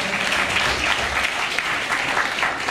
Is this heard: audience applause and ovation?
yes